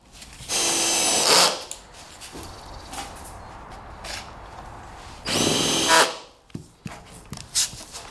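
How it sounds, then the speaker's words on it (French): Power drill boring through a terrace door frame into masonry, two loud sustained bursts of about a second each separated by quieter handling knocks and clatter, no talk. "Perce le cadre dans la maçonnerie."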